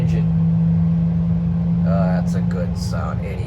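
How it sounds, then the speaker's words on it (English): An Airbus A320 jet engine starts up during ground pushback, heard as a steady loud low drone with a strong constant tone, while a voice talks over it near the end. "Here comes the engine."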